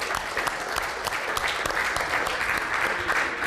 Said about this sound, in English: which I'd like to give a round of applause to those two